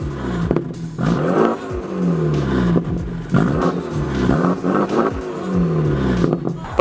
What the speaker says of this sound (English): The car sounds so good. It's not too loud, it's very refined.